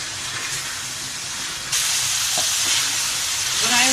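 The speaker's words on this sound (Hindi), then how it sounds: "अब सिर्फ हमें इसकी 2 से 3 मिनट भुनाई और करनी है" Green chili keema sizzling in a pan with a loud, steady hissing fry that grows stronger midway through, close and continuous, with no voices over it.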